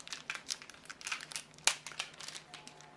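Plastic packaging being ripped open while upgrading a gaming computer, a quick run of close crinkles and crackles with one sharp tear near the middle.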